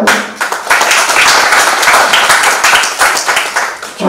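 An audience at a political gathering in Uttar Pradesh bursts into loud, dense applause that holds steady and then fades off at the end.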